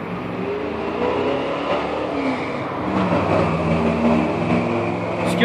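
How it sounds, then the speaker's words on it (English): Steady traffic noise outdoors, cars rumbling and engines revving nearby, a continuous drone that swells slightly with no talking. "there's a whole bunch of cars"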